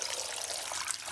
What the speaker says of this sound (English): So in the pot, we're gonna add some water